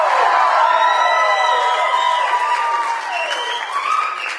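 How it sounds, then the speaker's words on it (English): An audience at a live poetry show claps and cheers in a steady, dense wash of applause with whoops and high shouts that slowly eases off. "everybody give me a nice big cheer"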